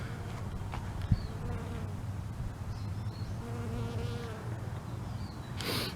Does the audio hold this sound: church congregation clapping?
no